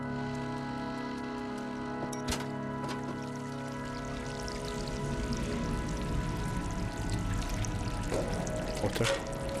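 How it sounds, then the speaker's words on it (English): Water pouring in the video game Stray, a soft continuous trickle under a droning game ambience, growing slightly fuller toward the end with a couple of faint clicks. "Water."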